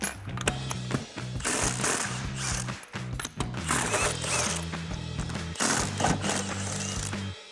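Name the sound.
impact wrench removing spare tire lug nuts on a Bronco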